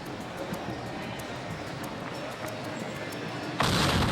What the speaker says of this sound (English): I'm just going to show you what happens when I'm throwing a grenade on these curtains